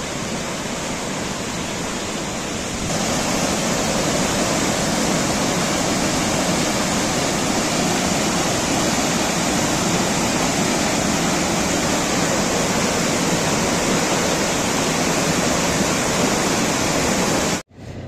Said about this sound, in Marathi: पाण्याचा फ्लो बघा केवढा आहे तो